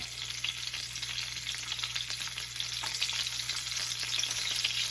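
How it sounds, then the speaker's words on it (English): Garlic sizzles and crackles steadily in oil in a wok during a stir-fry, a continuous close frying hiss with light stirring sounds and no talk. "Now when I do stir fries, I like to use chopsticks. I'm going to add the garlic."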